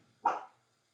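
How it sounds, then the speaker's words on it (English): A single short dog bark, somewhat distant and faint, then silence. "my dog is barking"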